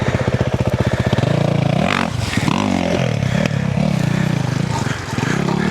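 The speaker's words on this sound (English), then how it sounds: "You just twist the throttle and away we go." Stark Varg EX electric motorcycle pulling away under throttle, a loud close whine that rises in pitch as it accelerates, mixed with clatter, rumble and a voice speaking over it.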